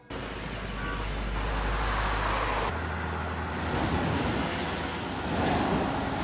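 A Porsche 911 passes along a road with a loud, sustained engine and tyre rush that holds steady for several seconds, then shifts in tone as it moves away, with traffic noise continuing behind it.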